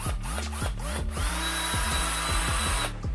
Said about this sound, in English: Okay, so now it is time to drill.